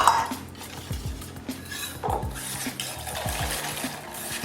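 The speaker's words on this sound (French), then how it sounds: "je vais ajouter ma farine, mon cacao poudre et ma levure chimique. Et pareil, je mélange." Flour, cocoa powder and baking powder are stirred together in a bowl, with repeated soft scraping and light clinks of a utensil against the bowl, close and fairly quiet.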